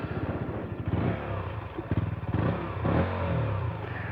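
A 2017 KTM Duke 125 single-cylinder motorcycle revving up close, with repeated sharp throttle blips rising and falling over a lumpy idle, each burst throaty and clattery.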